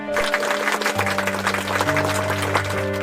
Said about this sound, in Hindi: पूरी पंचायत में यह सुनकर तालियां बजने लगती हैं।